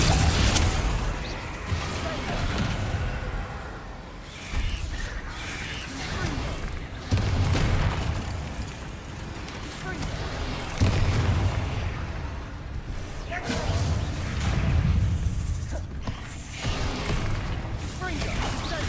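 Explosive blasts from the Confringo spell in Hogwarts Legacy burst over and over through a busy fight, thudding booms rising and falling beneath steady talk.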